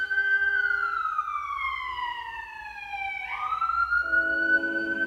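An emergency vehicle siren wails in long descending and rising sweeps, loud and fairly close, with a second two-tone horn joining partway through over faint traffic rumble.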